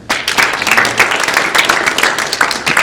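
A group claps for boys graduating from a youth basketball camp, loud close bursts of uneven hand claps with a few sharper individual slaps, no talk over it.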